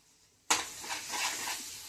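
An egg cracked into a hot pan of rice hits with a sudden loud sizzle, settling into a steady frying hiss with faint stirring scrapes, close by and without talk.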